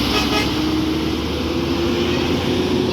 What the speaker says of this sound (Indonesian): Ini unit kedua NPM juga meninggalkan terminal.